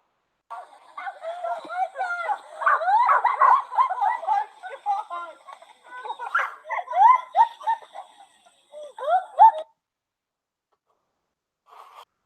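A dog in distress after swimming and taking in too much water, giving out a long run of strained yelps, whines and snorting breaths up close, then falling silent near the end.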